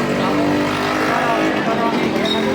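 Road traffic with a car passing close by makes a loud, steady engine and tire roar, with voices in the background at a roadside free-meal service.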